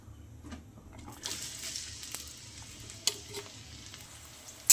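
Onions and green chilies sizzle in hot mustard oil in a pan, a steady close frying hiss with a few light stirring clatters and a sharp knock at the very end.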